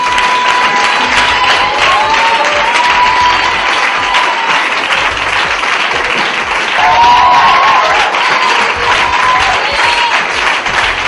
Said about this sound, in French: sous vos acclamations, nous allons tous nous tenir debout